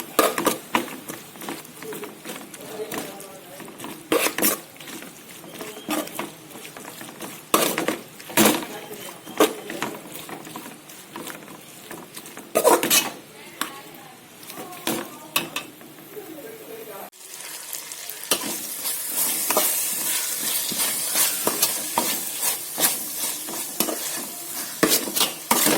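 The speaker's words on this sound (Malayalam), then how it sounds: "അതിൻ്റെ ഒരു പച്ചച്ചോവ മാറുന്നതും വരെ നന്നായി ഇളക്കി കൊടുക്കാം" Beef tripe (boti) fries in a pan for a Kerala-style village boti fry, stirred again and again with scraping strokes over a constant sizzle that grows brighter and louder toward the end.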